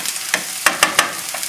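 Vegetables sear in a hot pan on high heat, a close steady sizzle broken by several sharp stirring scrapes and clicks over a short stretch, with no voices.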